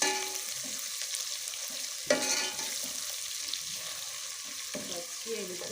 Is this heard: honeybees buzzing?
no